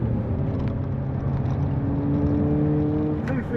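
A Hyundai Kona N running in its track-optimised N mode on a race track, with a steady engine drone and exhaust note whose pitch slowly rises as it pulls, heard from inside the car and loud throughout.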